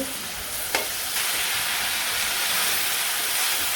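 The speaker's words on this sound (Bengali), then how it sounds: "সবজিটা ভালো করে কষে নেব" Vegetables stir-fried in oil in a pan in a village kitchen, a steady broadband sizzle holding level throughout with one brief sharp clink near the start, close and continuous with no talk.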